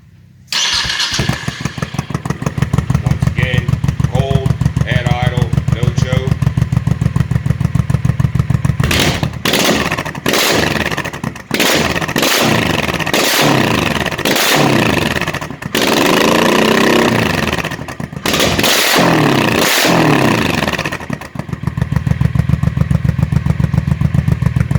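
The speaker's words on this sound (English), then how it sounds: "So here we go, first start up since putting the new pipes on." A 2005 Honda VT1100C2 Sabre V-twin motorcycle with new slash-cut exhaust pipes and baffles in cranks, fires up and idles with a loud, close, lumpy rumble, revved in several blips.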